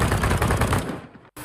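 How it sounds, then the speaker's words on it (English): An Ultimax 100 light machine gun fires in a video game, a rapid, loud burst of rhythmic shots that stops abruptly and decays into silence before a brief return of background tone. "an unusual light machine gun, the Ultimax 100"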